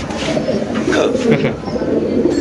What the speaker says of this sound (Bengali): এটা আপনার আমেরিকান ফ্যান্টেল কবুতর